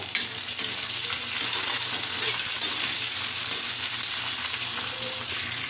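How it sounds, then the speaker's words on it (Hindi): Thinly sliced onions fry in a pan for masala dosa filling, giving a steady, even sizzle and crackle close up with no voices. "प्याज को हमें हल्का गुलाबी कलर लाना है, बस जब तक भुनना है, जब तक हमारा प्याज ये सॉफ्ट ना हो जाए।"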